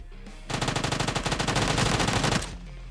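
Automatic gunfire in the PUBG Mobile battle-royale game sounds as one sustained burst of rapid shots lasting about two seconds, clear and alone against a quiet background.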